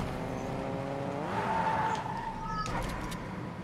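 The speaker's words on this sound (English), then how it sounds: "let's yeah, get in this car" Vehicle engine in the Fortnite video game, a steady droning hum with a rising whine and a brief skid-like squeal midway, under continuous game background noise.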